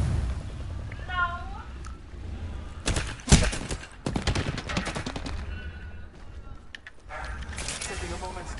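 Video game gunfire, bursts of rapid shots and sharp cracks scattered across the clip, mixed with mechanical clatter and game effects. A player talks over the shooting.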